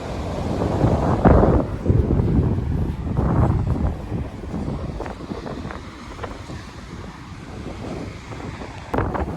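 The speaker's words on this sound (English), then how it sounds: "Where the river meets the ocean." Ocean surf and gusty wind buffet the microphone at a beach near Santa Cruz where a river flows into the sea, with waves washing in and out in loud, rough swells and no talking.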